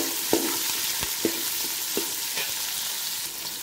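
Onions and green chillies sautéing in a pan for chicken biryani, a steady close sizzle with a few soft knocks of a spoon stirring at intervals, no talking.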